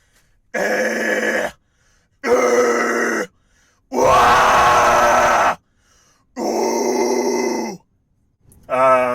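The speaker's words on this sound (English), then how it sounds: "let me give a couple of examples of what it sounds like when I scream" A man lets out a series of five harsh, gritty vocal screams, each about a second long, separated by short silences, loud and close.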